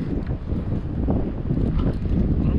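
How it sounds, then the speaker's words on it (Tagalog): Strong wind buffets the microphone in a continuous loud rush, gusting unevenly with a low rumble and no voices. "Lakas ang hangin."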